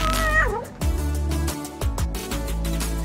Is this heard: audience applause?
no